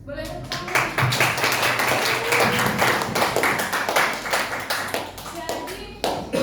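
A classroom of students claps their hands, a loud burst of many overlapping claps that continues steadily before thinning out, with a teacher's voice heard briefly.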